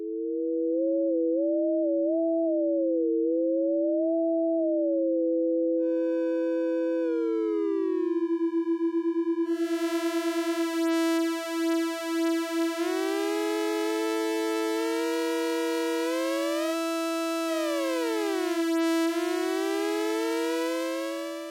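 Ableton Live 12 Roar oscillator playing a pure sine-like tone that glides up and down, then a second waveform enters and is detuned across a wide range, producing beating, shifting harmonics and siren-like sweeps, steady and loud with no voice.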